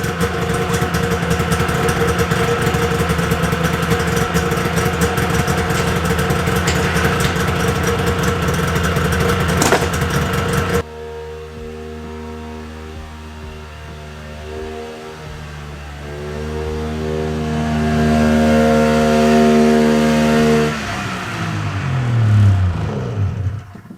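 A Polaris Indy XLT 600 triple snowmobile engine runs loud and close, idling with a steady, rough drone, then drops to a lower, lumpier idle before revving up a couple of times and settling back down.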